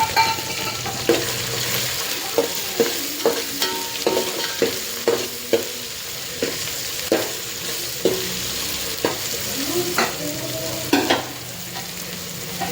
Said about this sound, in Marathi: कांदा आणि आलं लसूणची पेस्ट हे सर्व आपण मिक्स करून घेणार आहोत।